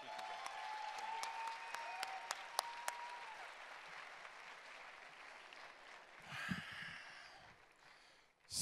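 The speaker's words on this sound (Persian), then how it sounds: "جانانه تشویقشون کنید" Audience applause at the Hafez Awards ceremony, a steady wash of clapping with a few sharp, distinct claps near the start, swelling briefly toward the end under faint background sounds.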